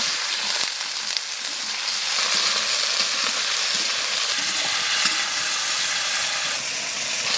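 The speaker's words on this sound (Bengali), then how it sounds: "সরষের তেল, কালো জিরে, পেঁয়াজ কুচি, টমাটো দিয়ে দেবো।" Chopped onion and tomato fry with black cumin in hot mustard oil, making a loud, steady sizzle with bubbling hiss and occasional stirring, close and continuous with no talking.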